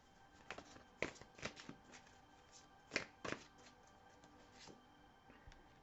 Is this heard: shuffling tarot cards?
yes